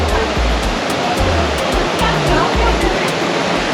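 Broadband rushing water flows steadily and loudly throughout, consistent with a river or stream in the Banjar and Tirthan Valley area near Jibhi, with low rumbling thuds underneath and no clear speech.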